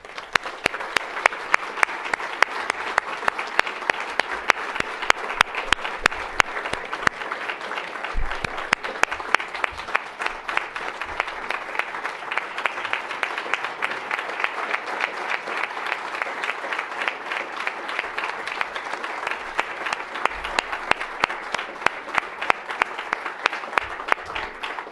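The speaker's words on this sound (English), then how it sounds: "Please join me one more time with one more round of applause for our honorees, both Chrystia and Zayed." An audience at a Washington diplomatic awards evening applauds honorees, sustained dense clapping from a large room that carries on evenly for the whole stretch without voices.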